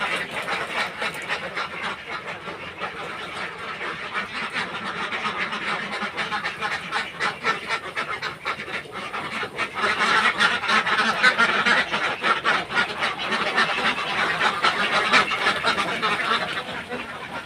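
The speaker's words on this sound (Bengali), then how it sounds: "হাঁসগুলো এখন বের হয়ে যাবে" A large flock of ducks on a duck farm keeps up a dense, continuous clamour of quacking, with individual calls blurring into a steady noisy din that swells midway.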